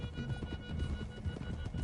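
Horses' hooves clip-clop at a gallop through the Red Dead Redemption 2 game, a steady rumbling rhythm of several mounts with a brief whinny, close and continuous.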